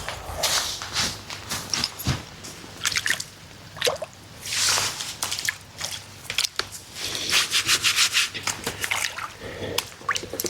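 A freshly pulled parsnip, the first of the year and free of canker, gets a quick wash: irregular wet drips, squishes and splashes of water with scraping, close up and fairly loud, with no talking.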